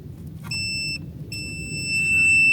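A continuity tester gives two short, high, clear electronic beeps on a Tesla fuse wire, close up over a low steady background hum.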